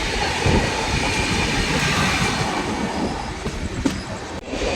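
The 12837 Howrah-Puri Superfast Express rolls through Santragachi Junction, its wheels rumbling steadily on the track with a rattling, clattering roar and a few sharp knocks near the end, heard from on board.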